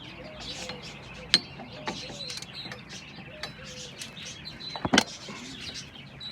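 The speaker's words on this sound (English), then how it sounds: "we're gonna get a 1/2" ratchet and twist it off" A 1/2 inch ratchet works loose a tie rod end on a 2005–2006 Toyota Corolla XRS, giving scattered metallic clicks and clanks with a sharp knock near the end, fairly quiet in a garage.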